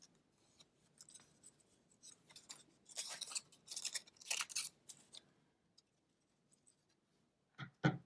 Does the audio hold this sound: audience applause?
no